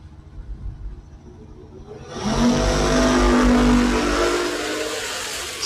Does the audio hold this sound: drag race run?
yes